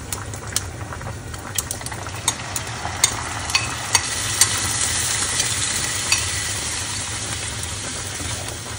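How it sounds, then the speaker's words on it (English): Browned beef, pak choi and rice being stirred in a pan, light rhythmic scrapes of a utensil ticking over a faint continuous sizzle and a low background hum. "The beef is all browned, the pak choi's in, the rice is doing well, chopped coriander, and now I'm gonna just put this in and stir it."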